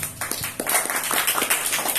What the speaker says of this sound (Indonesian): Siap, tepuk tangan dulu dong